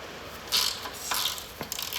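A wrench works the radius arm bolts underneath a Classic Mini rear subframe, giving short metallic ratcheting clicks and scrapes in a few bursts, close by and with no voices.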